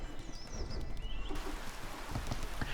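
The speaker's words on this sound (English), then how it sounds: "It's raining!" Steady rain patters in the video game Pompeii: The Legacy, a dense, even hiss of drops with scattered soft impacts continuing throughout, alongside faint high chirping tones early on.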